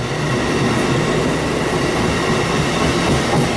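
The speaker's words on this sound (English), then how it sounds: "Here we see Amtrak's Northeast Regional Train number 172 departing, heading east towards Newark" An Amtrak Northeast Regional passenger train departs and rumbles past up close, a loud continuous roar of wheels and rail noise with faint rhythmic clatter throughout.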